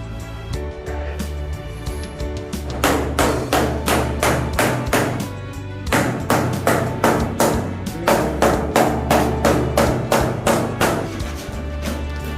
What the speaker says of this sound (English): Now we're going to apply pressure on the sun mica.